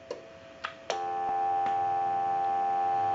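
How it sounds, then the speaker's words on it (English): Steady continuous telephone dial tone from a Ferrari telephone on a repair bench, switching on after a few clicks and then holding loud and unbroken to the end. "we'll give you some dial tone"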